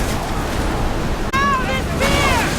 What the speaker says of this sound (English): Feel that wind!